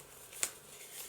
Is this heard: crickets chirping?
no